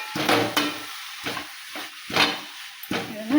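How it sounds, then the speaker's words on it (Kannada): Rajgira palya frying and being stirred in a pan, with soft scraping strokes that come in a few irregular bursts over a steady low sizzle, close by, and no talking. "ಇದನ್ನು ಹಿಂಗೆ ಚೆಂದಾಗಿ ತಿರುಗಾಡ್ತೀನಿ ರೀ"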